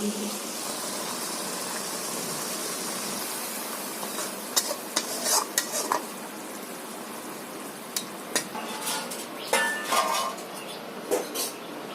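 Spicy Bengali fish curry (macher jhal) tipped out of a cooking pan: a steady hiss with scattered scraping and clinking knocks of metal on metal, close and fairly loud, with no talking.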